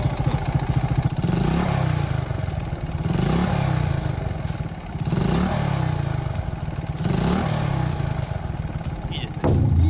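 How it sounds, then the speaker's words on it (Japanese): A 50-year-old Honda Dax ST50 50cc motorcycle, freshly restored, idles and is blipped in repeated rising revs, loud and close, a busy mechanical clatter under the engine. "これつけたんでね、これからエンジンかけていきたいと思います"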